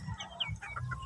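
Rhode Island Red chickens cluck and chirp in a busy, overlapping chorus on a farm over low rumbling background noise, close and fairly steady throughout.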